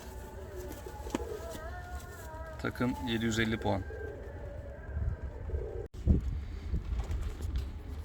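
Fancy and costume pigeons coo from a loft, mixed with steady wind and handling noise while someone talks close by about the birds.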